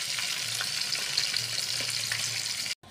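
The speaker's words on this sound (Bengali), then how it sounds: "নুন, হলুদ আর লঙ্কার গুঁড়ো মিশিয়ে মাছটা ভাজতে দিচ্ছি।" Roe-filled hilsa fish coated with salt, turmeric and chili powder fries in hot oil, a steady close sizzle with light spattering crackles that runs unbroken until it cuts off abruptly near the end.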